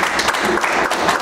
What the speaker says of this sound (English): Now give him a big hand clap of praise.